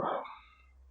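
A single dog bark rings out at a distance, then fades into a brief echoing tail.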